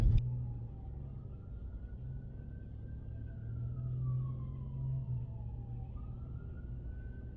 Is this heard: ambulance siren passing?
yes